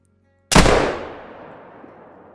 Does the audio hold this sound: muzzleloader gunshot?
yes